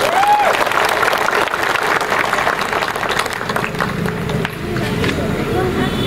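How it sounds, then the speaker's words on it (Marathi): A crowd at a political election rally applauds with a steady wash of clapping and crowd noise, mixed with a murmur of voices. "एकदा जोरदार टाळ्या वाजवा त्यासाठी."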